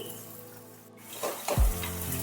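Onions frying in a pan over a gas flame give a brief, moderate sizzle, with a dull clunk of cookware near the end.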